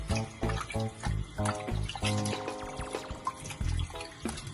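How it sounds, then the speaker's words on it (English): Tap water runs and splashes in bursts as three pounds of fresh raw oxtail are washed by hand in a kitchen, with intermittent sloshing and pouring nearby and no speech. "we're gonna wash our meat, get it nice and clean"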